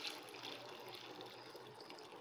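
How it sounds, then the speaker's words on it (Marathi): Water pours over lentils, rice and fenugreek seeds set to soak, a faint, continuous splashing rush that runs evenly through the whole stretch. "त्यानंतर यामध्ये आपल्याला पाणी घालून घ्यायचं आहे."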